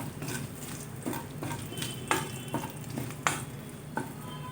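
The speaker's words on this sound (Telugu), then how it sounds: "ఇప్పుడు ఈ తాలింపు ఆ పచ్చళ్ళలో కలిపేద్దాం." A spoon stirs hot tempering into lentil chutney in a serving bowl, making soft scraping clinks every second or so over a low sizzling crackle.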